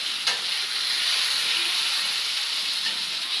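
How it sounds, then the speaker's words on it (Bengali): Pulao ingredients fry in a spoonful of ghee in a pan, giving a steady, close sizzle and hiss that carries evenly throughout with no voices. "ভেজে নিলাম, ভেজে নিলাম একটু অল্প করে"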